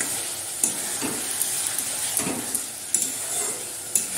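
Spiced masala of ginger-cumin paste and tomato sizzles steadily in oil in a pan, with a spoon scraping and stirring in several distinct strokes.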